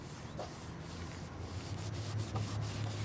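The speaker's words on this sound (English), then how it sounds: "let's rub the compound in" Turtle Wax headlight restorer compound is rubbed onto a plastic headlight lens with a continuous close, dry scrubbing sound that has faint rhythmic strokes, and no one speaks.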